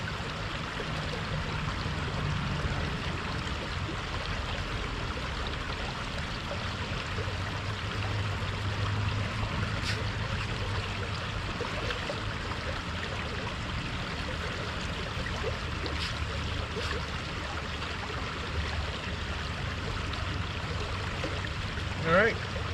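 Water running through a gold prospecting sluice box outdoors, a steady close rushing and gurgling flow that continues throughout with little change, plus a few faint knocks and clinks.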